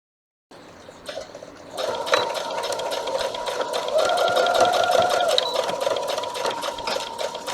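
A sewing machine stitching the sides of a hooded towel starts after a short silence, then runs as a rapid, even mechanical chatter that grows louder and holds steady close by.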